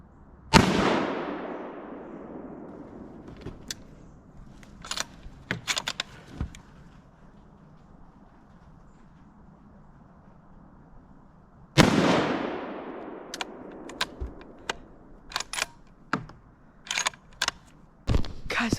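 Two sharp gunshots from a deer hunt ring out about eleven seconds apart, each loud and close with a decaying echo, followed by scattered clicks and rustling in otherwise quiet woods.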